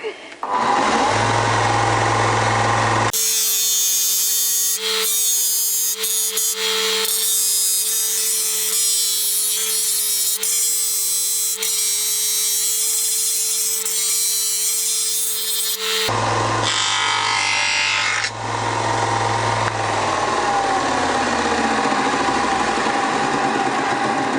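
A power tool cuts through a motorcycle part on a CBR1000F build, a loud, steady high whine running for most of the stretch, with a lower idling tone before and after it.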